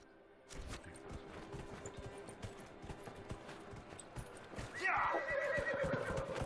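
A horse gallops in the Dragon Age Inquisition video game, rapid hoofbeats drumming steadily before a loud whinny rises near the end, close and prominent.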